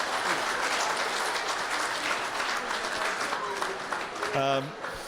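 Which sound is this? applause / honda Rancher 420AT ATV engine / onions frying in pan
applause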